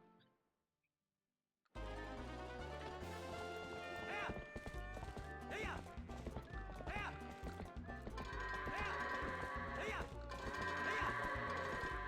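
Epona, the horse in the Zelda: Twilight Princess video game, neighs and whinnies repeatedly over steady galloping hoofbeats, loud and continuous after a brief silent opening, with game music and bleating goats layered underneath.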